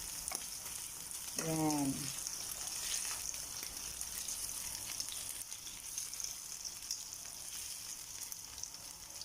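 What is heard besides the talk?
beef steak frying in a pan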